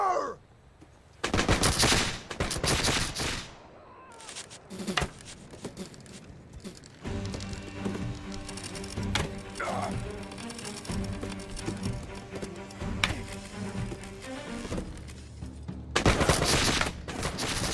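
Black-powder guns in Bannerlord with the Guns & Powder mod, bursts of loud gunfire and volleys in clusters, with quieter stretches of battle noise and tonal game sounds between them.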